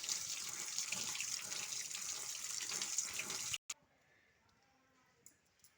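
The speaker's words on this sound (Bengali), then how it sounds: "থানকুনি পাতা এখন আমি এইখানে একটু ধুয়ে নেব ভালো করে" Pennywort leaves rinsed under a running kitchen tap, a steady splashing stream for several seconds that cuts off abruptly, followed by faint quiet handling and a soft click.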